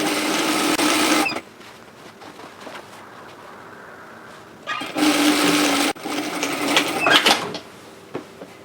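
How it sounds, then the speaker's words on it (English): Sewing machine stitching a 1 cm seam on a lined tote bag, two loud bursts of rapid whirring stitching separated by a quiet pause with small handling noises. "We're going to sew a seam at 1 centimetre, which is 3/8 of an inch"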